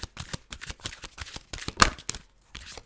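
Slightly sticky tarot cards being shuffled by hand, quick close riffles and slaps in uneven bursts with short pauses between, fairly quiet.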